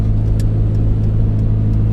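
A Dodge SRT4 cruising at a steady speed, its engine a continuous low rumble with road noise, steady and close throughout with no talking.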